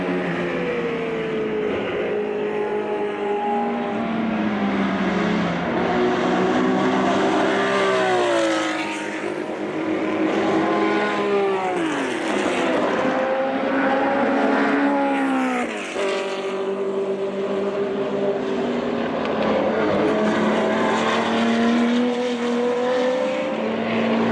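Porsche race cars, including a 1969 917K, race at Rennsport Reunion, their engines howling loud and continuous as they pass, pitch climbing through upshifts and dropping on lifts and downshifts, with several cars overlapping.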